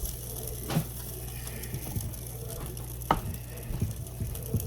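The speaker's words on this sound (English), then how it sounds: "I like to give it a stir in here just to make sure that our ranch dressing stuff is well incorporated." Ranch dressing being stirred into a hot chicken bacon ranch casserole mixture, with soft scraping and wet stirring sounds over a steady low kitchen hum, with a few sharper utensil knocks.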